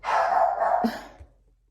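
A dog gives a short burst of barking, close and fairly loud, then quiet.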